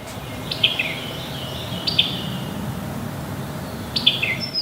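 Wood thrush song on the Pocomoke River near Snow Hill, Maryland: three clear, fluting phrases spaced a couple of seconds apart, moderately near over a soft, steady outdoor background.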